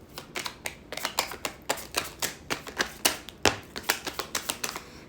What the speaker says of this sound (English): Okay, let's keep shuffling.